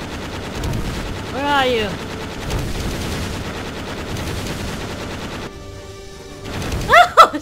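Gunfire from a battle in the video game Sword and Fairy 6 rattles at moderate level beneath game sounds and voices, with a brief burst of louder shots near the end.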